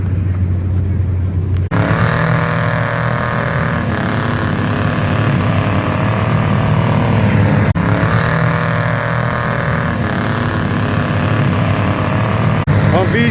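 A Chevy mud truck's engine runs hard at high load, a loud, continuous, steady roar heard close up and lasting throughout.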